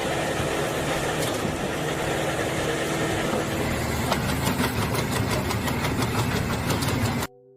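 A log-making machine, an excavator-mounted stump and firewood processor, running with a steady loud engine roar and dense rattling mechanical noise for about seven seconds before cutting off abruptly.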